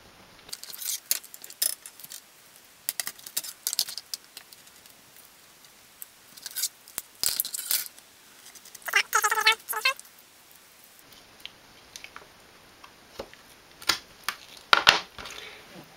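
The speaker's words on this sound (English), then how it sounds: "using a craft knife, cut out a couple of packers" Craft knife slicing through thin packer material, heard as a series of short scraping cuts and faint crunches spread unevenly across a quiet background, with no voices.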